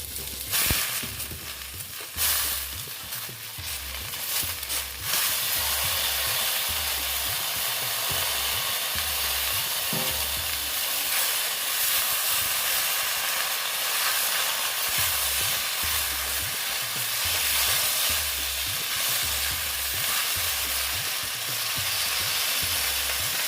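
Water spinach (kolmi shak) frying in a pan, a steady loud sizzle that holds almost unbroken throughout, with a few brief clatters of stirring near the start.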